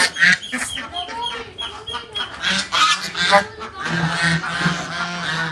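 White ducks honking at a farmhouse, a loud close flock of overlapping nasal honks and quacks in irregular bursts.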